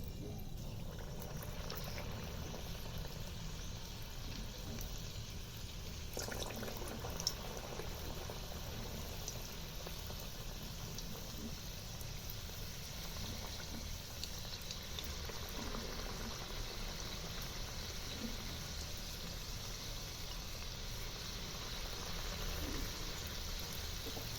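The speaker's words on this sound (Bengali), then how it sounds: "তেল গরম হয়ে গেছে এবার আমি সিঙ্গারাগুলো এক এক করে ছাড়ব" Bengali-style singaras deep-frying in hot oil in a wok, a steady, continuous hiss of bubbling oil that carries evenly throughout with no talking.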